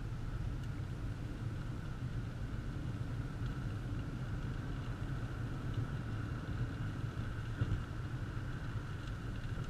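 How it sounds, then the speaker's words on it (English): A 2001 Lincoln LS V6 accelerates on a straightaway, heard from inside as a steady low engine and road rumble that holds throughout, fairly muted, with no talking. "Very quick acceleration on this car."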